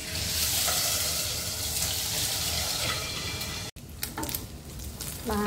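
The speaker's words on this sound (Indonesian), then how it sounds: "Lanjut goreng tahu dulu." Tofu frying in a pan of hot oil, a loud dense sizzle for several seconds that cuts off abruptly, followed by quieter clattering and stirring.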